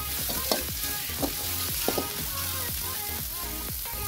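Long beans and carrots stir-fried with green onions in a hot pan, a loud steady sizzle broken by repeated scraping strokes of a spatula at a brisk, fairly regular rhythm, close and without talk.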